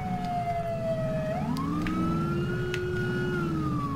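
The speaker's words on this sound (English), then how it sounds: "I hear the alarm going off as well." A wailing alarm on a burning yacht in GTA 5, a loud continuous siren-like tone sliding up and down in pitch over a low engine rumble, with no talk.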